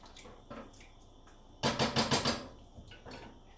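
Barley stirred in a pot on the stove gives soft wet scraping and sloshing, a few light strokes followed by a brisk run of four quick swirls, then quieter movements in a calm kitchen.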